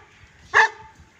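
A pet dog in a village lets out one short, sharp bark, fairly close and loud against an otherwise quiet background.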